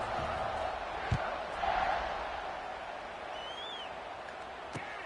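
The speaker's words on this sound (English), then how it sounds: "They're ready to kick it away, and this crowd is buzzing." A stadium crowd in a college football video game gives a steady, distant roaring buzz that swells briefly, with a couple of sharp thuds and a faint whistle-like tone.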